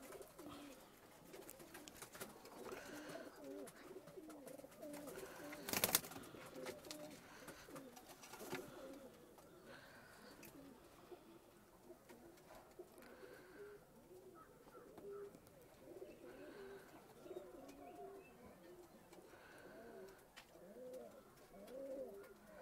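Pigeons coo in repeated soft, rounded phrases at close range, with a brief sharp knock midway and faint background murmur; homing pigeons kept by a fancier in Vellore.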